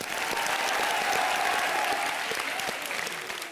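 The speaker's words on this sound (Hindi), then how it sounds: "जोरदार तालियां हो जाए भारती," A studio audience at a comedy show claps loudly and steadily, a dense sustained wave of applause that swells and then fades slightly.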